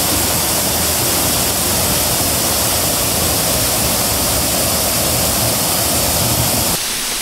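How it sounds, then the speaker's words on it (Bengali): A small waterfall on a hill trail rushes with a loud, constant broadband hiss that stays even and unbroken from start to finish. "এরকম ছোটো ছোটো ঝর্ণা দেখা পাবে"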